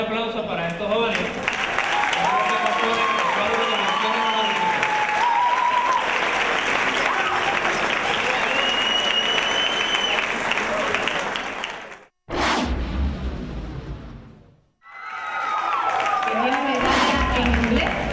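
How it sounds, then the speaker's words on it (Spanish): An audience at a school ceremony applauds students receiving medals, with loud, sustained clapping and crowd noise filling most of the stretch. The applause breaks off twice briefly before resuming, with voices mixed in. "Pedimos un fuerte aplauso para estos jóvenes."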